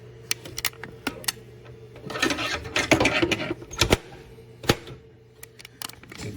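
An HP Ink Tank 416 printer's actuator mechanism is levered loose, giving sharp plastic clicks and snaps scattered among a burst of scraping and rattling.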